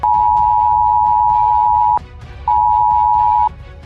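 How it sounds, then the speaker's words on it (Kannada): A mobile phone emergency alert sounds a loud, steady electronic tone, one long two-second blast, a short pause, then a second one-second blast, close and alone. "ತಮ್ಮ ಮೊಬೈಲಲ್ಲೂ ಕೂಡ ಆ ಸೈರನ್ ಸದ್ದು ಮೊಳಗಿರಬಹುದು"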